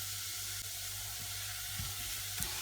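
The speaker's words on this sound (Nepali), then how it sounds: "यो प्याज यो लसुन चाहिँ खैरो खैरो हुँदाखेरि चाहिँ प्याजलाई हालिदिने" Onion and garlic sizzle steadily in hot oil for a chicken curry, a continuous close frying hiss with small pops and no voices.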